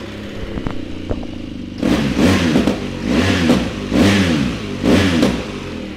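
A 2014 BMW R1200GS Adventure motorcycle engine fires up with a clattering idle, then revs hard several times in rising and falling bursts, loud and close.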